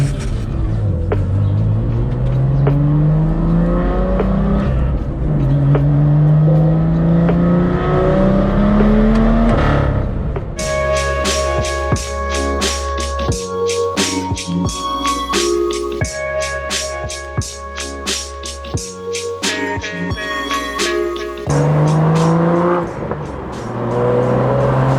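BMW M2 driving on the road, engine note rising and falling through repeated accelerations and gear changes, loud and continuous from inside the car.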